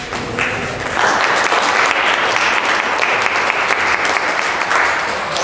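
A church congregation at Sunday Mass claps warmly together in steady, sustained applause filling the room for several seconds, with no voices heard.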